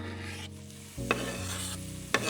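Chopped nettles with a little garlic and ground pepper sautéing in a pan over low heat, giving a steady soft sizzle with a couple of sharp stirring clinks and scrapes.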